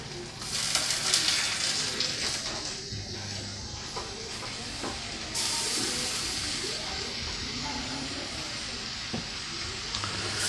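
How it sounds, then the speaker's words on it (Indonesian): Sticky rice being stirred with serundeng in a hot pan, sizzling and hissing steadily with scraping strokes of the spatula, close and fairly quiet, with a brief louder burst of frying partway through. "Ini kita aduk teman-teman."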